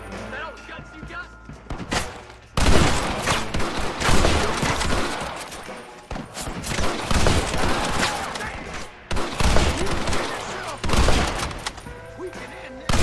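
A Red Dead Redemption shootout erupts into sustained gunfire, with dense volleys of shots and heavy bursts running almost continuously after a brief quieter lead-in, loud and close, with shouting voices underneath.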